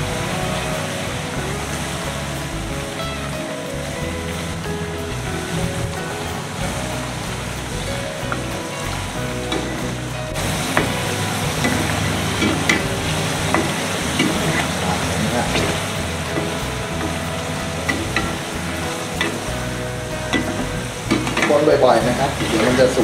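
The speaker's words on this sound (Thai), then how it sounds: "พอทอดไปประมาณ5นาทีจะเห็นได้ว่า เผือกเริ่มลอยขึ้นมาแล้วนะครับ" Taro pieces deep-frying in hot oil while being stirred, a steady dense sizzle and bubbling with occasional scraping of the utensil, continuous and close, growing louder and busier toward the end.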